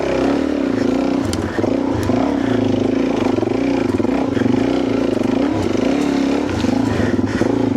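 A dirt motorcycle pulls away in first gear on a sandy track, its engine droning loud and steady close by with rough clattering from the terrain under it.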